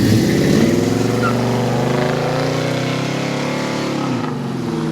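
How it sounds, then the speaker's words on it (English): A classic Chevrolet Malibu SS, a supercharged car of around 1,000 horsepower, rolls out at a Houston car show with a loud, steady, deep engine rumble that drops a little in pitch as it pulls away, heard close. "See if I can't catch that Malibu SS rolling out."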